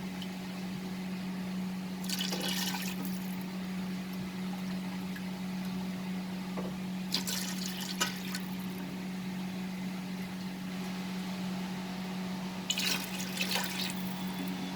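Steady low hum of a stove with three separate bursts of splashing water poured by the glassful into a cooking pot for potato pulao, each lasting about a second or two, spaced evenly apart.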